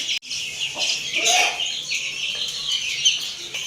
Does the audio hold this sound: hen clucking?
yes